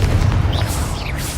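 Confringo fire blast spell cast in Hogwarts Legacy, a short booming burst with a low rumbling body and brief crackle, loud and close, lasting just over a second with no talk.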